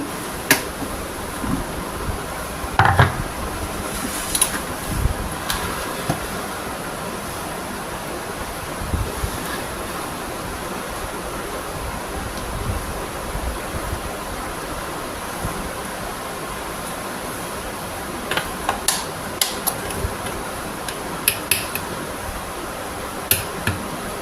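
A Panasonic mixer grinder runs with a steady, loud whirring roar that holds evenly throughout, with occasional faint clicks and knocks on top and no talk.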